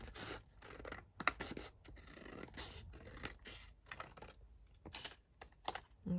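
Scissors trimming the edge of a journal paper page, a quiet run of crisp snips and paper rustles in uneven bursts, close and faint, with no voices.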